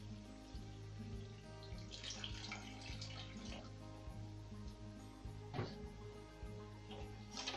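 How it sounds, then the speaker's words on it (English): A small amount of water poured into chicken gravy for chicken bharta in a pan, a soft continuous splashing trickle with faint clinks, quiet and close, no talking. "Now we will add just a bit of water in it."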